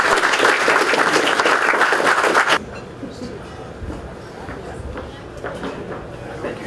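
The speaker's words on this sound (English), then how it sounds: "Another round of applause for you." An audience at a New York State Broadcasters Association honors event claps loudly and steadily for about two and a half seconds, then the applause cuts off abruptly, leaving quiet room noise with faint movement.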